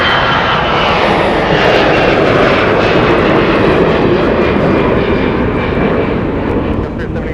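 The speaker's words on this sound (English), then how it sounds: "We've got a departure going out." An airplane departing from MSP airport in winter roars steadily and loudly throughout, a dense, continuous engine rumble with no breaks.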